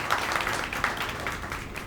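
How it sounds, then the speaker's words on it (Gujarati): An audience applauds to welcome a guest at a charitable trust meeting. The clapping is dense and continuous, moderately loud and fairly close, and it fills the whole short clip. "એમને આપણે એક તાળીઓથી વધાવી લઈએ."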